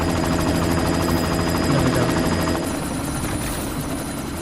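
A helicopter in the video game Deus Ex: Mankind Divided runs with a loud, steady rotor and engine drone, its dense whine continuing evenly while the tone shifts slightly partway through.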